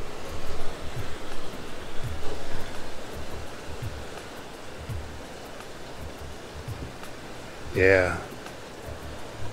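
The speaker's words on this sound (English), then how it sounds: "enjoy the soothing sounds of the running water" Running water in downtown Caldwell, Idaho, a steady broadband rush filling the background throughout, with a brief spoken interjection near the end.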